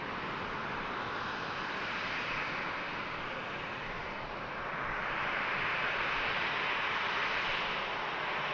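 A Ryanair jet airliner arriving at Manchester Airport, its engine roar a steady broadband rumble that swells slightly toward the end, heard at a distance with no talk.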